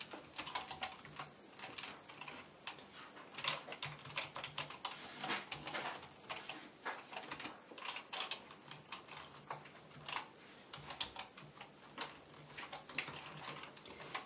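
Rapid, uneven keystrokes on a computer keyboard as code is typed for a Raspberry Pi robot's distance sensor, steady clicking bursts close up with no talking.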